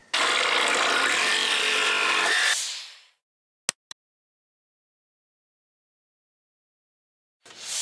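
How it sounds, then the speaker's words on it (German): A jigsaw buzzes steadily through a piece of wood for about two and a half seconds and then winds down, followed by a couple of sharp clicks and silence before the saw briefly starts again. "Und das schneide ich mir dann mit der Stichsäge einfach hier ab."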